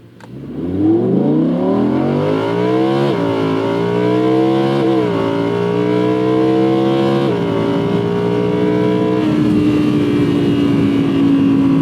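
A 2018 Audi R8 V10 Plus Spyder's V10 engine accelerates hard, its loud rising roar climbing through several gears with brief dips at each upshift, then holding a steady high drone.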